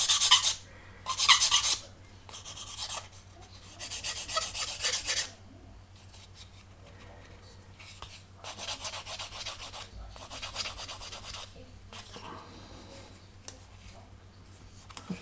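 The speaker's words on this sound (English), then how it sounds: "Fortunately wide enough to get in with my sander." A small sander works on a plastic part of a 1/48 Miniart Junkers F13 model kit, giving several close, bursty rasping passes separated by short pauses.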